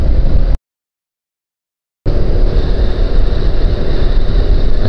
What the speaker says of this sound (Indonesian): Wah, ternyata anginnya cukup kencang ini ya.